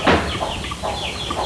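Domestic chickens clucking close by, a short burst of busy fowl calls at the start followed by softer intermittent clucks, with no speech.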